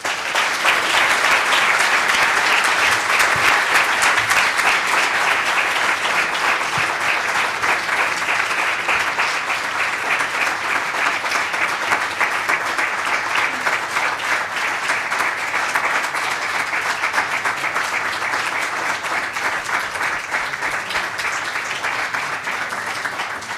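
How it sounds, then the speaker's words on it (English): Sustained applause from a conference audience at a Python developer event in Italy, a dense steady clapping that stays loud and even throughout before tapering slightly at the end. "And a great applause for Emily again."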